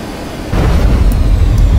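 An F-5 Tiger II jet engine in DCS World, on a naval carrier, throttles up: a quiet hum gives way to a sudden, loud, broad roar that holds steady to the end, with no voices.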